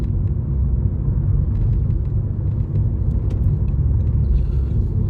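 A car drives along a road on the way to a Sunday market in Poland, heard from inside as a steady, loud low rumble of engine and tyres that runs throughout with no voices.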